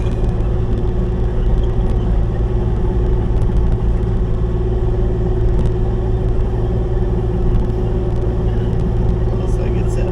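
A Kubota KX040 mini excavator works its blade to push dirt over dry grass for a dusty driveway, its engine a loud, steady low drone that rumbles on without pause from start to finish.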